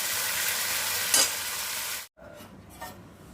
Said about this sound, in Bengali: মশলাটা খুব ভালোভাবে কষিয়ে নিচ্ছি